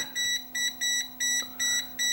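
A non-contact voltage tester held against a live outlet beeps fast and shrill in regular pulses, about seven in quick succession, close and clear with no talking.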